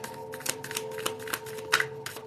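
Affirmation cards for Emotion Code and Body Code healing being shuffled by hand, a quick run of close, crisp riffling flicks and snaps over a faint steady hum, with no talking.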